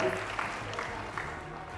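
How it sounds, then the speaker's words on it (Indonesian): Applause for sponsors at an Indonesian youth leadership event, a steady wash of audience clapping held at moderate volume across the whole stretch, with no voices over it. "Kita berikan tepuk tangan buat semua sponsor kita pada kesempatan siang hari ini."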